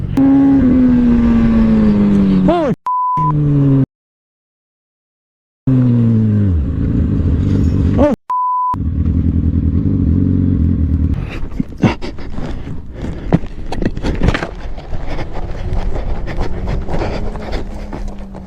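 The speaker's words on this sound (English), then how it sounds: "He captured his friend's bike losing traction of road while taking a turn and ending up off-road" A motorcycle leans into a road turn and loses traction, its engine droning loudly and shifting pitch, then cutting out, followed by scraping, knocking and tumbling noises as the bike runs off the road.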